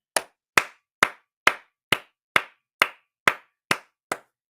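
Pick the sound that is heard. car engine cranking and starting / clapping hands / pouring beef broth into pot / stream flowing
clapping hands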